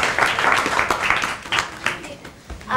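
Crowd applause with scattered clapping, fairly loud and steady, tapering slightly toward the end.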